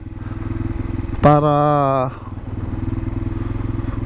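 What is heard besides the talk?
motorcycles passing on road by bridge construction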